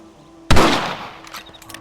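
A single sharp rifle shot in the Red Dead Redemption video game, loud and close, followed by a decaying reverberant tail and faint trailing clicks.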